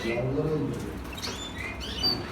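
Young mutation canary and goldfinch chicks give soft, high chirps and tweets, scattered through the clip over a steady low background rumble.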